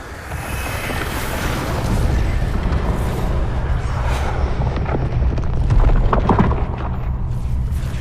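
A bomb explosion in a modded Hogwarts Legacy playthrough, a loud, sustained rumbling boom with crackling debris that rolls on for several seconds and swells again near the end.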